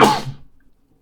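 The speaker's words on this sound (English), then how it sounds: "I'm gonna sneeze." A single close sneeze from one person, a sharp, loud burst that fades away within half a second into near silence.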